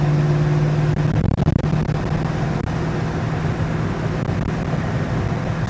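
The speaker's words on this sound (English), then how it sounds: "So this is a big block Chevy." The big block Chevy V8 in a 1969 Nova runs at a steady idle, a loud, dense, continuous rumble close by with a constant low hum.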